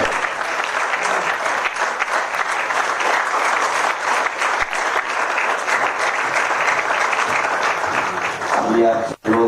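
A crowd claps loudly and continuously at a theater festival's lifetime achievement award ceremony, a dense, even wash of applause lasting about nine seconds before breaking off abruptly, with a voice faintly heard through it.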